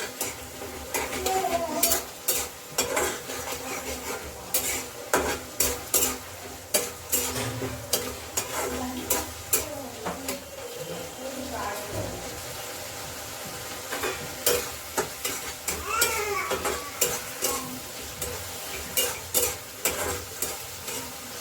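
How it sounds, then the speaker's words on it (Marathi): A spoon scrapes and stirs a sizzling tempering in a pan while South Indian poriyal cooks with tamarind water, giving repeated sharp metal-on-pan knocks in an irregular rhythm over a soft, steady frying hiss, fairly close and quiet. "आता आपण ही फोडणी सुद्धा यामध्ये घालून घेतलेली आहे आणि याला चांगलं हरवून घ्यायचं आहे आपल्याला"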